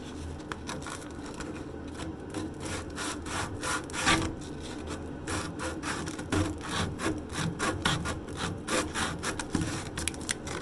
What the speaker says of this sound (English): So I want to sand that off.